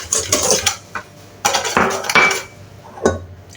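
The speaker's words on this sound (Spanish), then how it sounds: "125 de azúcar que vamos a mezclar con la fécula" Sugar and starch are mixed in a bowl with a utensil, producing several close bursts of scraping and clinking against the bowl, separated by brief pauses, with no talk.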